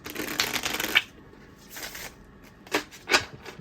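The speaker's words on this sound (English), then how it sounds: "The first shuffle." A deck of manga tarot cards being shuffled, a long riffling burst followed by three shorter, sharper shuffles, close and clear with no talk.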